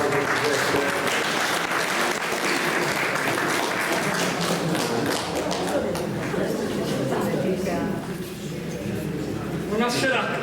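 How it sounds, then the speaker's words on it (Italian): Dense, steady applause from an audience at a Sardinian poetry contest greeting poet Giuseppe Cuvetto of Ossi, loud and continuous throughout with some crowd murmur mixed in. "Un applauso Giuseppe"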